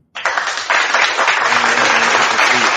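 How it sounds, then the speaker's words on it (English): A sudden burst of loud, dense applause starts abruptly and holds steady, many hands clapping together without a break. "I'm gonna give you applause."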